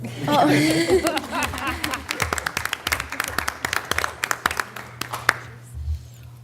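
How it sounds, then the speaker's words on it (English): An audience at a school board meeting breaks into scattered applause, many sharp claps pattering over a low steady hum, with some chuckling and murmured talk mixed in. "You guys can clap. Go ahead."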